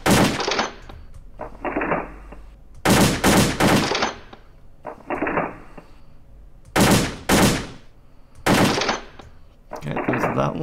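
AK47 fire on a shooting range in the World of Guns video game: loud, close bursts of automatic gunfire in several separate volleys, some rapid strings and some shorter groups, with quieter gaps between them.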